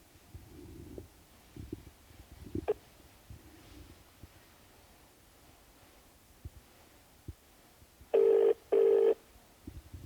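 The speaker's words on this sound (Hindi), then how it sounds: "चलिए, तो इनको फ़ोन तो लग गया है।" Telephone ringing on an outgoing call to a minister's phone, two short, loud ring bursts near the end after a quiet stretch of faint rustling and handling clicks.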